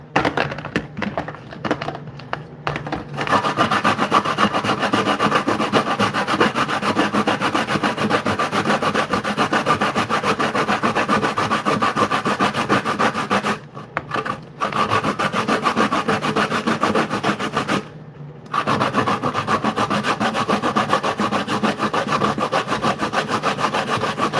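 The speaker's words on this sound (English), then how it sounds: "Now that we got our coconut clean, let's get it ready. Using the grater." Dry coconut rubbed against a hand grater for Jamaican gizzada pastry, a steady close scraping rasp running continuously for most of the stretch with two brief pauses, loud and alone without talk.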